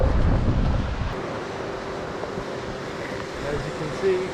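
Wind buffets the microphone over steady surf along Old Orchard Beach in Maine on an overcast day, a loud rushing wash that stays constant throughout with a faint tone near the end.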